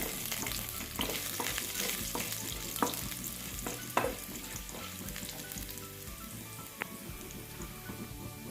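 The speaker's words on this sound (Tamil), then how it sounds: "கடலைப்பருப்பு சேர்த்ததுக்கப்புறம் சும்மா 2 கிண்டி கிண்டி விட்டுடலாம்" Chana dal crackles in hot oil as it is stirred in a pan for an amaranth stem chutney. A dense, rain-like patter of sizzling runs throughout, with occasional spoon knocks against the pan.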